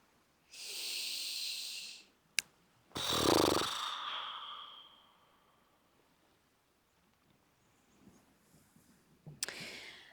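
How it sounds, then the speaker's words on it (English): Slow, deep breaths during a yoga class: a long airy exhale, a sharp short sniff, then a stronger inhale-exhale with a rough throaty edge, followed by near silence and a final breath close to the microphone. "just inhaling and exhaling in your own time"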